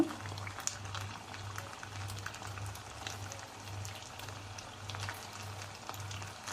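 Semolina vadas deep-fry in a pan of hot oil, a small batch at a time, giving a faint, steady bubbling crackle with a low rhythmic hum beneath and no speech.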